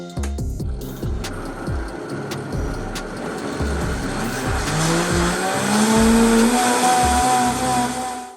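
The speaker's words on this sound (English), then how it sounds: "we're going to add these dry seasonings to what we just cooked down and blend it all together" An electric blender whirs loudly and steadily as it blends a mojo marinade with dry seasonings, pitch rising as the motor speeds up, with no talk over it.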